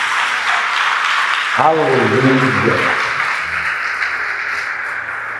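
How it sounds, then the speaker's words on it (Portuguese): Church congregation at a Sunday service applauding, a steady wash of clapping throughout, with a voice briefly exclaiming over it partway through. "Aplauda o Senhor Jesus."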